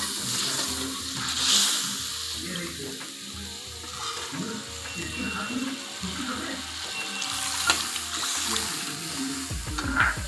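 Mustard paste sizzling and bubbling in a pan for shorshe ilish as water is poured in, with steady frying hiss, stirring clatter and a faint voice in the background.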